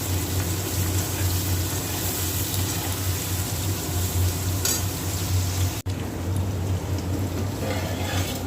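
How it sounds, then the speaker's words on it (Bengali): Water comes to a boil in a pot for rice, a continuous close bubbling and hissing with a low steady hum beneath, heard alone without talk. "আর এই দেখো ভাতের জল ফুটলো বলে ফুটেই এসেছে"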